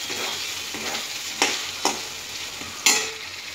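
Potatoes stir-fry in hot oil for a paneer dish, giving a steady soft sizzle broken by three sharp scraping stirs of a spatula against the pan; no voices.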